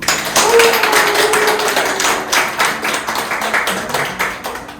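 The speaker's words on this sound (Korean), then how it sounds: "박수!" People at a Busan company gathering clap together, a close, loud flurry of hand claps that holds steady for several seconds and then gradually thins out.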